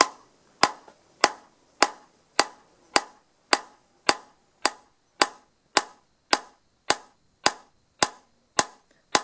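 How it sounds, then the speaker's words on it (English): Hammer peening a blade edge, steady sharp metallic strikes repeating about every 0.6 seconds, sixteen or so evenly spaced close blows with short ringing decay, no talk. "So let's peen here a little bit."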